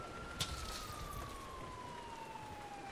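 A police car siren wails from the middle distance in Grand Theft Auto IV, a steady gliding tone drifting slowly downward over a dense, constant background hum of city traffic.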